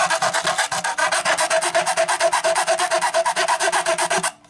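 Rhythmic back-and-forth rasping of a file or grinding tool on the cut wooden edges of a homemade display box, about two dozen steady, loud strokes that stop just before the end, with no voices.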